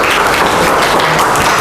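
A classroom bursts into dense, loud applause, with continuous clapping from many hands and almost no talking.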